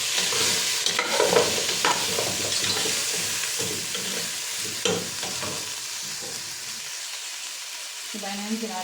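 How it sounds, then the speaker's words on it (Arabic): Pieces of head and trotter meat sauté in a pot while being stirred, with a loud sizzle broken by repeated scraping and clattering stir strokes that ease toward the end. "نشوحهم كده في تشويحه"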